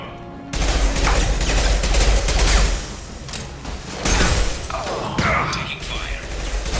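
Sustained gunfire from the Mass Effect 2 video game, a dense loud fusillade of shots with echoing thuds, while in-game voices call out over the combat.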